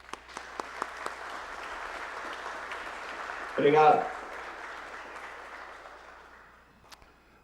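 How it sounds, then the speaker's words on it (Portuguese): Audience applause at a business panel event, a steady roomful of clapping that swells briefly midway, with a short spoken thanks over it before it fades out. "uma salva de palmas a todos"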